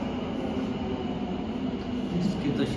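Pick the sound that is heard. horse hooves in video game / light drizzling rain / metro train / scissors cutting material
metro train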